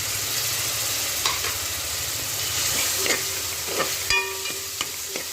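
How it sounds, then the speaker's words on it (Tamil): Tomatoes sauté in a pan with chilli, turmeric and coriander powder for a hotel-style vegetable salna, giving a soft steady sizzle with occasional clinks of a spoon stirring, and no talking. "தக்காளி நல்லா வதங்கிட்டு இப்போ நம்ம எடுத்து வச்சுருக்கிற மசாலா சேர்த்துக்கலாம்"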